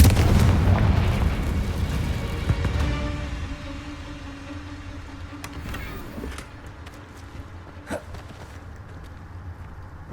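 A Confringo spell explosion in the video game Hogwarts Legacy erupts as a loud, booming blast, then rumbles and crackles away over several seconds, with sharp snaps and pops in the tail.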